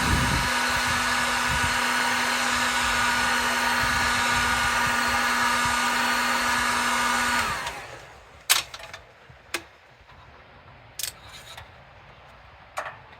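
A heat gun blows a steady, loud whirring stream of air to warm light-strip adhesive, then cuts off and winds down, followed by a few sharp handling clicks in the quiet.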